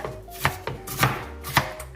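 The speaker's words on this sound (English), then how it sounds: "probably about half of a medium onion, or maybe a small onion, I'm chopping up" A knife chopping half of a medium onion on a cutting board for homemade pumpkin soup, with four distinct close, crisp chops spaced at uneven intervals.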